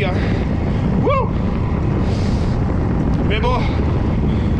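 Strong wind roaring steadily into the microphone while cycling near the sea, a constant loud rush with brief whistling tones and a short voice exclamation.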